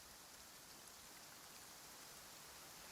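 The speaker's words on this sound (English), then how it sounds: "It's raining." Rain in the video game Genshin Impact falls steadily as an even, hissing wash of drops, faint and unbroken, with no voices over it.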